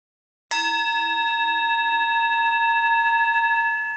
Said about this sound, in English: So Paul, will you ring the gong?